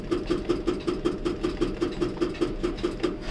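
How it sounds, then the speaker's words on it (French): Slewing motors on a Potain tower crane, heard from inside the Ultraview operator cabin, clacking in a steady rapid rhythm of about a dozen evenly spaced knocks over a low mechanical hum, close and fairly loud. "Quand on entend les moteurs d'orientation faire clac-clac derrière"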